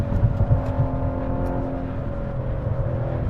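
A BMW M5 pulls hard in second gear on a canyon road, its engine holding a steady, loud drone with a firm low rumble throughout, heard from inside the car with no talking.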